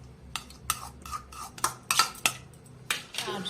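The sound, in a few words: beating egg mixture in a bowl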